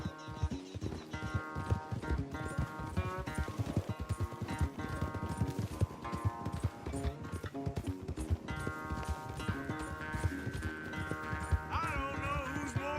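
Horses gallop during a race in Red Dead Redemption 2, a steady drum of hoofbeats running beneath a sustained, layered musical score.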